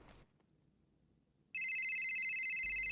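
A telephone rings with a loud, steady electronic tone that starts abruptly after a quiet stretch and continues without a break, in a Tobot cartoon scene.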